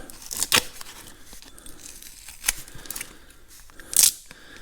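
Cosmoline coating is peeled off new old stock pistons in layers, giving quiet sticky tearing and crinkling sounds with a few sharper rips, separated by near-silent gaps.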